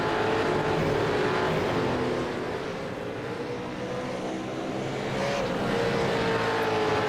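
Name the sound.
V8 Supercars racing at Interlagos in a sim racing video game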